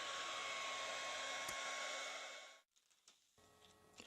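A heat gun blows a steady, close, loud hot-air rush while heating half of a graphite golf shaft, then cuts off, leaving a quiet room with faint handling noises.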